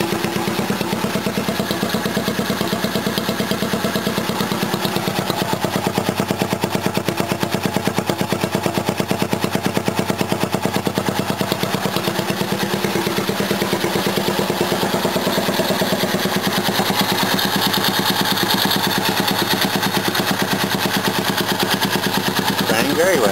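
A small mini bike engine runs steadily after a tune-up, a loud, close, rapid chugging putter that holds an even idle throughout.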